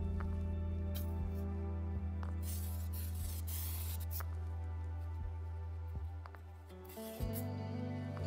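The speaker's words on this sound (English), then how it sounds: "I'm using Kilz spray primer today since it's super quick and I have a lot of area to cover." An aerosol can of Kilz oil-based spray primer hisses steadily onto old furniture, a continuous close spray with brief pauses, over a persistent low hum.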